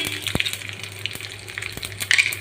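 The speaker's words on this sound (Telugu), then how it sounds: "ఒక 5 మినిట్స్ అలా పోపుని ఫ్రై చేస్తున్నాను" Cumin, mustard seeds and garlic crackle and sizzle in a tablespoon of hot oil with green chillies, a steady close frying hiss broken by a few sharp pops and spatters.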